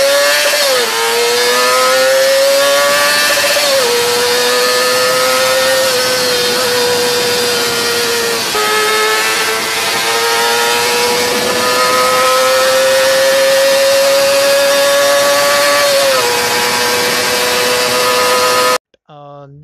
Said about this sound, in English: A 250cc inline 4 sounds great, right? And even the actual sound was great.